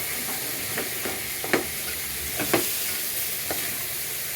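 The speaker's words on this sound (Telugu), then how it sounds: "దీంట్లోకి ముందుగా పెట్టుకున్న బాస్మతి రైస్ని యాడ్ చేసుకోవాలి." Soaked basmati rice hits a hot pan for veg pulao, sizzling and hissing steadily while a spoon stirs through it with a few sharp scrapes and clacks at irregular intervals, close and clear with no talking.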